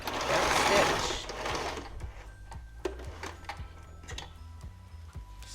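A sewing machine back stitching a quilt, running in a rapid whirring burst and then slowing to a steady ticking stitch rhythm, close and fairly quiet.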